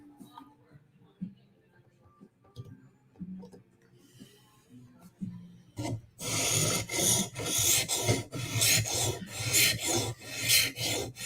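Quiet handling noises give way to loud, rapid rasping strokes of a K390 steel knife blade on a sharpening stone, repeated in a fast steady rhythm close up.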